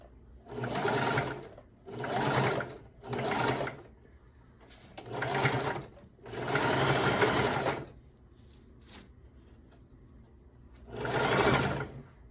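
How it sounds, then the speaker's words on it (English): A sewing machine stitches down an L-shaped seam on a skirt-set bodice in six separate bursts of rapid, close whirring, each a second or two long, broken by short quiet pauses. "I'm sewing down that L shape"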